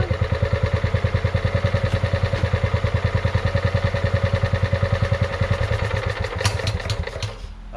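A Scotts by John Deere riding mower's repowered small engine runs close by with a fast, even putter that holds steady, then roughens and fades slightly toward the end.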